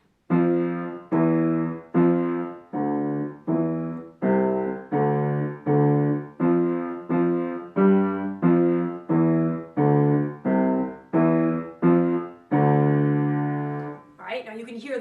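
The Dies irae chant is played as a slow, low-register, minor-key melody of about fifteen steady, sustained notes, loud and alone, ending with a brief noisy tail.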